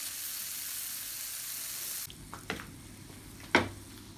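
Pad Thai ingredients sizzle in a noodle pan as they are mixed, a steady hiss that drops partway through, followed by a few sharp clatters and scrapes of stirring.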